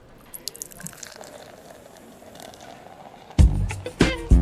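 Fat Tire beer pours from a bottle into a glass, a quiet trickle and fizz that turns into a few louder glugging splashes near the end, close to the microphone.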